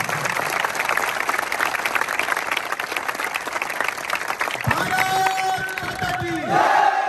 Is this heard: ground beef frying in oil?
no